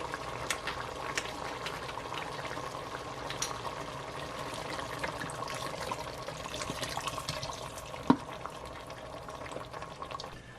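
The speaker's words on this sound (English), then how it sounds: "next I'm gonna add the concentrated broth" Concentrated broth being poured from a container into a lasagna sauce, a steady faint watery trickle and liquid wash running continuously with one small knock partway through.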